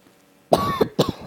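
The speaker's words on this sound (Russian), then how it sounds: "Еще раз извиняюсь за этот кашель." A person coughs twice in quick succession, two short, harsh bursts close to the microphone, following a brief quiet lead-in.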